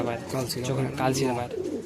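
Madrasi high-flying pigeons coo in a Kolkata pigeon loft, a steady murmuring chorus close by, with someone talking over it throughout.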